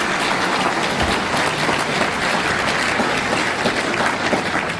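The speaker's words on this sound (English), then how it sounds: "Big round of applause for Ben Shapiro." An audience applauds steadily for Ben Shapiro at a live event in Orange County, a dense, continuous wash of clapping that holds at a loud, even level throughout.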